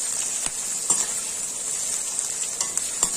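Onion and green chillies fry in a pan with a constant bright hiss, punctuated by occasional light stirring taps and scrapes, close up with no speech.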